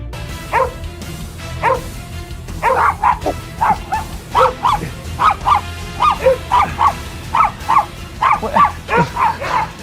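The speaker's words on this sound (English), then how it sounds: "my dog Boomer is going on a series of dates with famous dogs to find his crush" Several dogs bark and yip back and forth during a dog date, sharp repeated barks coming in quick bursts over steady background noise, with the most rapid exchanges toward the end.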